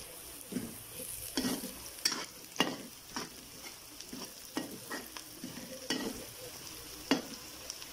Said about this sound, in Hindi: प्याज हमारा लाइट सा ब्राउन होना शुरू हो गया। अब हम इसमें सब्ज़ मिर्च शामिल कर देंगे।